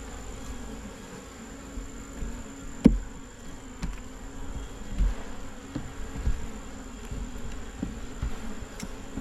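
A steady low buzzing of many honey bees in an open hive during a November inspection, the bees erratic, with a faint high whine above and a few soft knocks and clicks.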